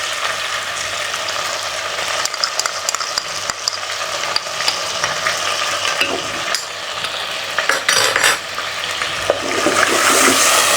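Ginger, garlic and green chillies fry in a pan for a Punjabi chicken and arbi curry, giving a steady, close sizzle with scraping stir noises throughout and no talking.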